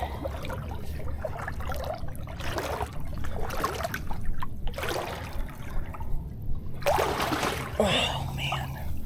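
Water sloshing and splashing around a person wading in beside a dock while fishing for sheepshead and snook in Florida, repeated close bursts of splashing over a constant wash of water and background noise.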